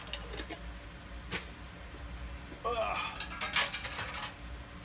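Spoon stirring cabbage soup in a pot, with sparse metallic taps at first, then a denser burst of scraping and clattering against the pot's sides, near and moderately loud.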